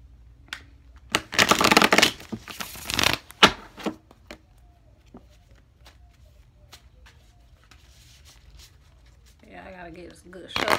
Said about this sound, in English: I gotta get some good shuffling.